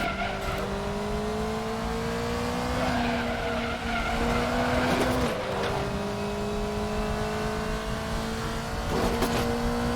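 A race car in RaceRoom brakes into the Nordschleife Carousel, tires skidding and squealing loudly over the steady engine drone, with the engine pitch shifting as it settles through the banked turn.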